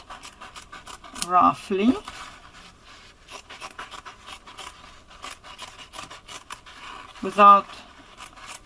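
Scissors cut through dark denim fabric in short, rough snipping strokes that run steadily under a person talking nearby.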